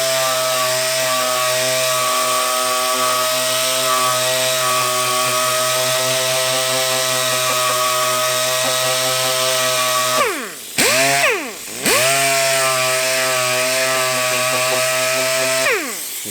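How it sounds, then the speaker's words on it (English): A power sander works a plastic fender with 80 grit sandpaper, a loud steady high-pitched whine that briefly drops and spins back up twice near the end, running alone throughout. "we're getting all the 80 grit sandpaper marks out right now"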